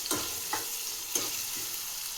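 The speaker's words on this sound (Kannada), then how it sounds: "ಎಣ್ಣೆಯಲ್ಲಿ ಚೆನ್ನಾಗಿ ಒಂದ್ಸಲ ಹಾಗೆ ಫ್ರೈ ಮಾಡ್ಕೊಳ್ಳಿ," Onions frying in oil as a first step toward capsicum rice, with a steady close sizzle and a few distinct spatula scrapes stirring them through the pan.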